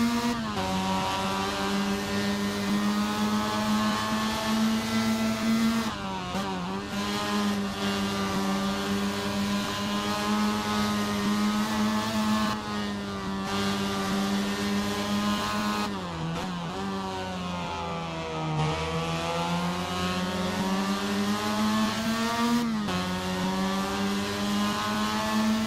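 Formula Mazda and Mazda MX5 race car engines howling around the Autopolis circuit in Assetto Corsa: a steady, droning multi-car whine that rises and dips with gear changes and throttle lifts, continuous with no talking.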